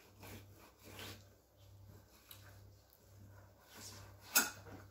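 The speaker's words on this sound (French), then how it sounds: "Vous prenez le saumon par ici, vous le coupez et vous venez au plus près de la planche." A knife slicing through a salmon fillet against a cutting board gives soft, repeated rubbing strokes, with a sharper knock near the end, fairly close and quiet with no talking.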